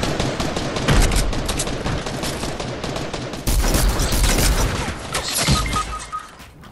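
Rapid gunfire crackles in a video game in dense, loud, overlapping bursts, with sharp impacts and crashes layered throughout.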